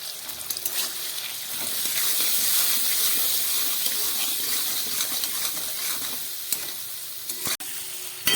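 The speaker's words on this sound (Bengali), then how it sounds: "মটরশুঁটি, আলু, টমেটো সব ভাজা হয়ে গেছে।" Peas, potatoes and tomatoes frying in a pan with coriander and cumin powder, a steady close sizzle with stirring scrapes and occasional sharp utensil clicks.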